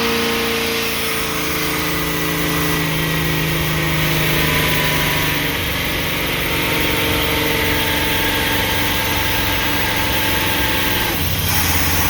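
A motorhome engine runs steadily, a loud continuous idle with a droning hum and vibration, shifting slightly in pitch near the end.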